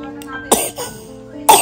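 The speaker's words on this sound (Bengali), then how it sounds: "তো সকাল থেকে মেয়েটা উঠে এত কাশছে" A young girl coughs twice close up, short harsh bursts separated by a pause, with a faint voice in the background.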